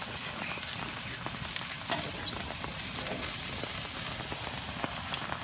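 A steak sizzles in a pan with a dense, constant frying hiss and scattered small pops and crackles, steady and close throughout.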